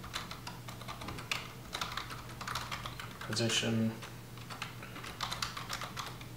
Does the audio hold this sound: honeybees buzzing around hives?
no